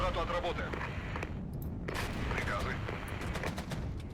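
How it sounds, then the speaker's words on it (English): Enemy artillery fires in the war strategy game Regiments as a cluster of sharp, distant booms and cracks. Talk runs beneath the shots, and several impacts go off at irregular intervals. "Enemy artillery has begun to open fire."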